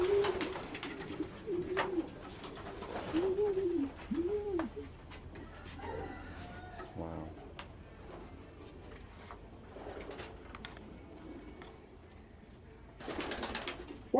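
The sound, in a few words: racing pigeons cooing in breeding station loft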